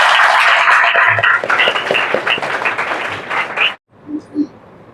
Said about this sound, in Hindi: आइए हम प्रभु यीशु के लिए ताली बजाएं।